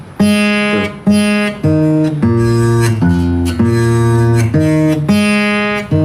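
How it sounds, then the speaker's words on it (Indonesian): An out-of-tune acoustic guitar, its strings plucked one at a time in a slow, loud sequence of ringing notes, each left to sustain and decay before the next, played solo without talk. "Ini gitar gue nih perlu gue servis lagi nih."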